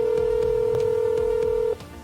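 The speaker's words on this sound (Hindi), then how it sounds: "तभी उसके फ़ोन पर कॉल आती है।" A phone tone sounds for an incoming call as a single steady, close electronic note holding for nearly two seconds before cutting off, over a low background hum.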